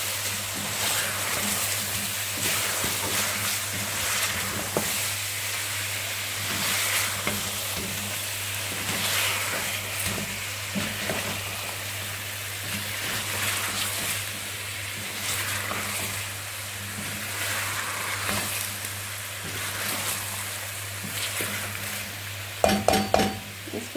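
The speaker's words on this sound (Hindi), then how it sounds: "ये सब मसाले ऐड करके इनको डालकर हमने अच्छी तरह से मिक्स कर लेना" Whole spices, red pepper, turmeric and cloves frying in oil in a pot for chicken aloo, with a steady sizzle and scraping stirs throughout, a low hum underneath and a few clinks of the utensil against the pot near the end.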